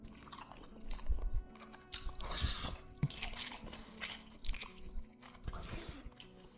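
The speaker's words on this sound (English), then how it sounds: "A low, wet sound. Not mechanical. It was like someone chewing something." A low, wet chewing sound in a dark stairwell leading to lower cabins, with irregular bursts of squelching and crunching bites that come and go, fairly quiet and close.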